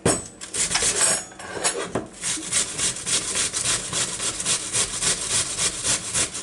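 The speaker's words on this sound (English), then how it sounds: "I will chop up my onions" Onions chopped with a knife for salmon patties, a steady rhythm of close, scraping cuts on a cutting board that carries on throughout with no talking.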